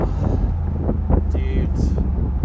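A 2019 Mercedes-AMG G63 Edition 1 accelerates hard, its engine a loud, sustained low roar blended with heavy wind buffeting, steady and close throughout.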